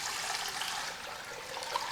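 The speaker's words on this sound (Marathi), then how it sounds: "त्यामध्ये आपल्याला हे पाणी घालायचं आहे" Water poured into a large, heavy-bottomed pot heating on the stove for cooking sprouted bajra flour, a steady continuous splashing gush, close and fairly loud throughout with no talk.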